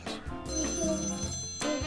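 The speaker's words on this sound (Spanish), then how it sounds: "Ahora tienen que llamar por teléfono." A telephone rings loudly and close by in bright bursts of electronic trilling, with a short pause between rings and no voices.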